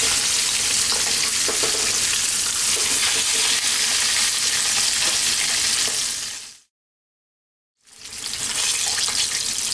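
Pieces of crispy boil-and-fry chicken frying in oil that is hot but not too hot, giving a loud, steady, dense sizzle up close that cuts out briefly to silence, then returns just as strongly.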